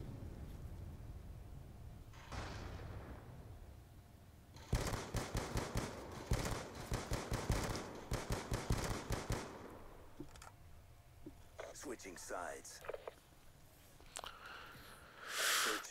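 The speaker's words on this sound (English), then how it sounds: "So he had a submachine gun." Submachine gun fire in a video game, a long rapid burst of sharp shots lasting several seconds, followed by scattered quieter single pops and clicks.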